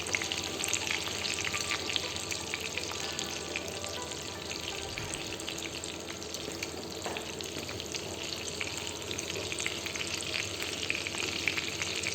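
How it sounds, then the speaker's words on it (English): Seasoned schnitzel shallow fries in a hot pan, giving a continuous, even sizzle and crackle nearby, with no talking. "gently slice the seasoner in the pan and shallow fry for at least 2 minutes on each side."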